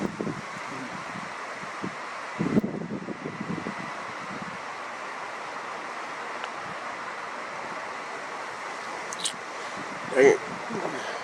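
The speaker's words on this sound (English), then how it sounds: "all of a sudden the wind came up" Wind gusting outdoors at night during a lunar eclipse, a steady broad rush against the microphone with a few louder buffets and rustles, a faint voice briefly underneath.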